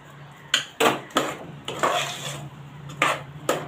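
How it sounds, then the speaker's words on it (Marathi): A spoon scraping and clanking against a pan while wheat and jaggery porridge is stirred over low heat, several distinct metallic knocks between soft, wet stirring, close and without voices. "एक मिनिट मी याला असंच परतून घेते स्लो गॅसवर"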